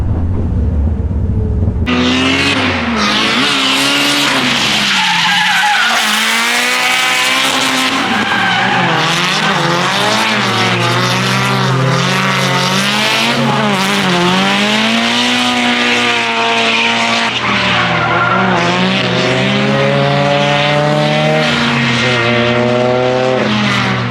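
A Nissan Cresta on an S chassis drifts at Nikko Circuit, with a stock 2-liter engine revving hard. It wails and bounces through the gear changes alongside long tire squeal, loud and close, running without a break and with no talk.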